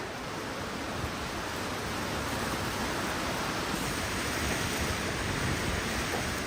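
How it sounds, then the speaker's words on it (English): Light rain falling outdoors on a Scottish farm during a cow hoof trim, a steady, soft hiss of drops with no speech, constant and even throughout. "it's starting to rain a little bit"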